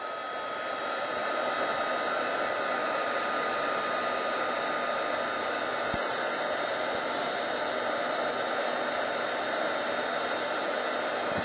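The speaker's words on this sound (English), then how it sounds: "let's get out the heat gun and give that a little heat while it's already still heated" A heat gun blows a steady, loud broadband whoosh of hot air onto hot glue during a stamping craft session, holding constant for the whole stretch after a quick rise at the start.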